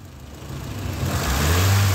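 A car engine revs up from idle during an automotive sensor test, a low steady drone that climbs and grows louder over two seconds, close by with no talking.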